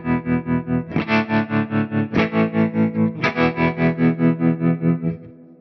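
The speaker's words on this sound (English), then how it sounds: "So there's the sound of the tremolo." Hamstead Artist 60+RT guitar amp with its tremolo engaged, strummed chords pulsing in a fast, even throb as the volume swells and dips rhythmically, loud and close, fading out at the end.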